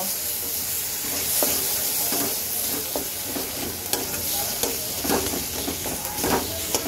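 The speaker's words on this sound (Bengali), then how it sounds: "এখন সব কিছু একসাথে সুন্দর করে কষিয়ে নেব" Spices such as coriander and cumin powder fry with a catla fish curry base in a pan, a continuous close sizzle punctuated by irregular spatula scrapes and knocks as the mixture is stirred.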